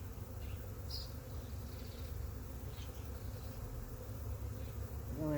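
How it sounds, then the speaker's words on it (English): Honey bees from a queenless colony buzz in a steady, dense hum on a cloudy, cool day, close and continuous, with faint individual drones weaving through and no voices. "so they are not happy bees."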